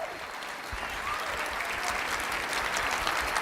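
Steady applause from a room full of people at a seminar, dense continuous clapping that swells slightly, with no talk over it.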